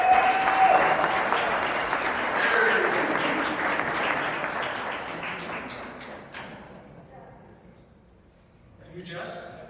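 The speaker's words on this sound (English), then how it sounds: "Everyone give her a round of applause." Audience applause for the cook at a corporate kickoff and awards meeting, a steady broadband wash of clapping that holds for several seconds and then thins out, with a brief renewed swell near the end.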